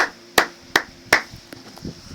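A congregation at a French-language church service claps in slow, even rhythm: several sharp, distinct hand claps spaced about a third of a second apart, the first three loud and close, the later ones softer.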